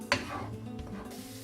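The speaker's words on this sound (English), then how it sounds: "while we let these onions sizzle" Onions sizzle steadily in a hot pan of reused grease, with a sharp metallic clink of a utensil near the start and soft stirring scrapes.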